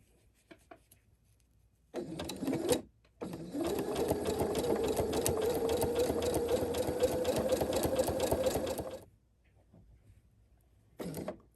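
A sewing machine runs a straight stitch along marked red lines on fabric: one short burst, then a long, steady, close run of about six seconds, and a brief restart at the end, with no talking.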